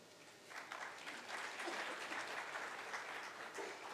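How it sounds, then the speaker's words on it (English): Steady applause from an awards ceremony audience for the Lok Sabha Speaker, fading in and then holding as a soft, even wash of many hands clapping, fairly distant. "Let's have a big round of applause to Shri Om Birla, Honorable Speaker of Lok Sabha."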